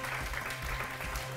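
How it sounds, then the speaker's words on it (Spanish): A studio audience claps briefly during a televised game show, a short burst of dense, steady applause heard close and moderately loud with no voices over it. "le pido un aplauso para Rush Energy"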